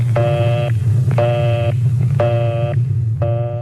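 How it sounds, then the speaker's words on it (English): Busy signal from a 1936 telephone newsreel: four evenly spaced bursts of a buzzy harmonic tone, each about half a second with equal gaps, over a steady low hum. "If the line is busy, you'll hear this busy signal."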